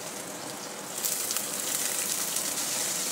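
Chopped onion hits hot oil already seasoned with cumin, green chilli and curry leaves, and the frying sizzle swells louder after the first second into a steady, close crackle with no talking.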